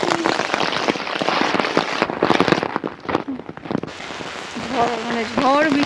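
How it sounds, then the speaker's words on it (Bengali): Heavy storm rain pours and drums steadily on surfaces and an umbrella outdoors, loud and close, with a voice speaking over it toward the end. "ঝড় বৃষ্টির অবস্থাটা কি অবস্থা"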